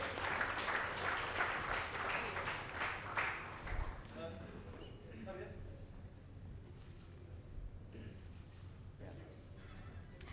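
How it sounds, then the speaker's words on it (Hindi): For about four seconds, a crowd at the NTA Awards 2024 open mic ceremony gives faint, scattered applause to an honoured guest. The clapping then fades and gives way to quiet talking and background room noise. "जोरदार तालियां सर के लिए।"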